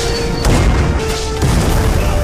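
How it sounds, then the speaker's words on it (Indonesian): Repaired cannons fire in a film battle scene, heavy booms and crashes rolling under a dense, loud wash of combat noise, with two sharper impacts standing out partway through. "Vikram yang emosi pun menggunakan meriam yang sudah diperbaiki guna menghabiskan semua"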